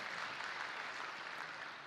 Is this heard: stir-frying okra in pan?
no